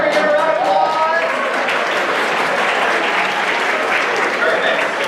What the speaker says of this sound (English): Every round of applause.